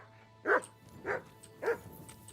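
Three evenly spaced barks from a dog in the medieval video game Kingdom Come Deliverance 2, fairly close and clear over a low background hum.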